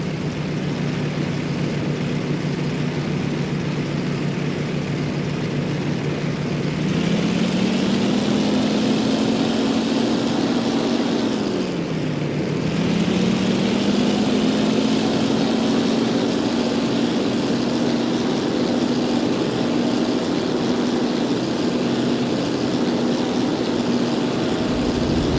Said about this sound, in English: Give us a flyby of the Ford Island Control Tower.